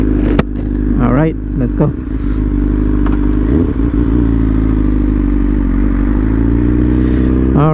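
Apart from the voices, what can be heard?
motorcycle engine running and revving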